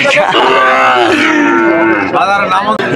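Cattle moo loudly and close by at a cattle market, one long drawn-out lowing call followed by another, with no talking.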